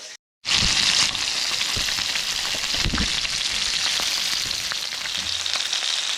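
Fish sears in a hot frying pan with a loud, steady, dense sizzle that starts abruptly after a brief silence and holds without letup, a few faint scrapes and clicks scattered through.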